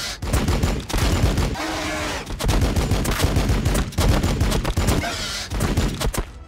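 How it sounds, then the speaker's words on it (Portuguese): Dense, loud gunfire from the Warhammer 40k Battlesector video game, rapid volleys of shots and bursts filling the whole stretch with brief lulls between barrages. "Vou ter que atirar."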